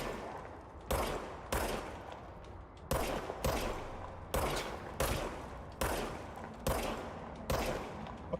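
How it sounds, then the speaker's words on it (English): Evenly spaced single gunshots from a pistol in the action game Control, about nine sharp reports roughly a second apart, loud and close, each followed by a short decay, with no talking. "Okay, now I have a gun."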